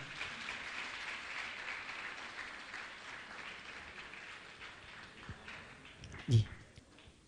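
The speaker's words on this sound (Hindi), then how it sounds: "आप जोरदार ताली बजाकर इनका सम्मान करें" Audience applause at an honouring ceremony during a Jain monk's religious gathering, steady moderate clapping that thins out, with a voice speaking near the end.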